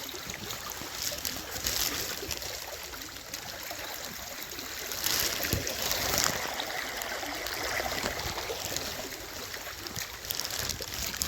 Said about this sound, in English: I've never seen this creek flowing.